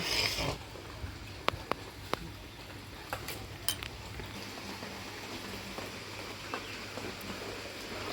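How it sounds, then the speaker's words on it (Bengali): Steady rain falls outside, a soft broadband hiss that fills the whole stretch, with a few sharp clinks of kitchen utensils close by. "বাইরে দেখো বৃষ্টি পড়ছে"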